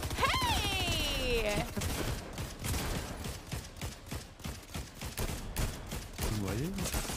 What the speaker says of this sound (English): We're getting shot at from somewhere.